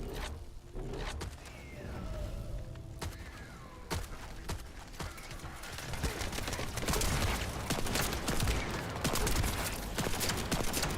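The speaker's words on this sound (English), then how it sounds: "Hand cannon power." Hand cannon gunfire in the video game The First Descendant fires as a series of sharp, punchy shots. The shots are spaced irregularly and then grow denser amid dense combat effects and rumbling explosions.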